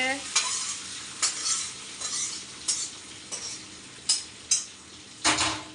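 Brinjal and pointed gourd slices frying in a pan at home, with a steady close sizzle broken by repeated sharp scraping stirs of a utensil against the pan, no voices.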